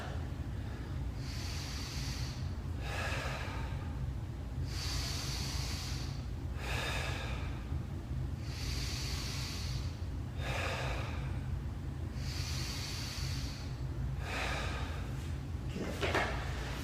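Slow, deep diaphragmatic breathing during a post-rowing cooldown: long, audible inhales and exhales in an even rhythm, close and clear over a steady low background hum.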